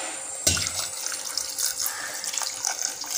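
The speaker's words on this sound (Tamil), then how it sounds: "அப்புறம் தேவையான அளவு தண்ணி விட்டுக்கலாம்." Tap water runs in a steady splashing stream into a vessel of toor dal with turmeric, starting with a sharp onset and continuing as a bright, close hiss.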